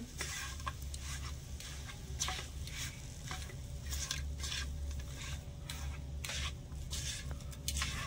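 Mashed potato stirred and fried with spices in a pan on a gas stove, a soft continuous sizzle with repeated scraping strokes of a spoon against the pan, fairly quiet and steady.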